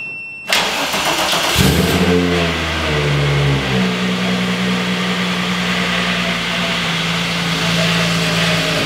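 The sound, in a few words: 1995 VW Corrado engine starting and revving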